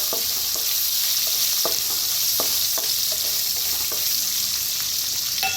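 Long-cut green chilies fry in a pan for a dosa recipe, giving a steady, close hiss of hot oil throughout, broken by several sharp clicks and scrapes of stirring.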